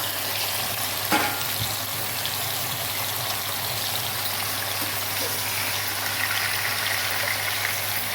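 Mutton frying in ghee mixed with a little refined oil gives a steady, close sizzle that hisses evenly throughout, with light crackling and no voices.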